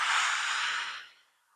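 A single long exhale through the mouth during a lower-back rehabilitation exercise, a close, breathy rush that fades out over about a second.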